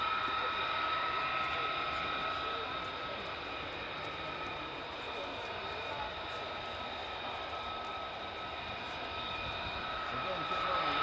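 An English Electric Lightning jet roars overhead at RAF Lakenheath, a loud sustained engine howl with steady whining tones that dips slightly then swells again, voices talking nearby.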